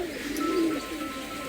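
Imported Pilanka pigeon chicks give a soft, low coo, one brief rounded call rising and fading over steady faint background hum.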